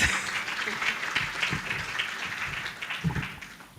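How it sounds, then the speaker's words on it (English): An audience at a launch event for the African Girls Can Code Initiative claps in a steady, continuous round of applause, with a few voices faintly mixed in. "A round of applause, please."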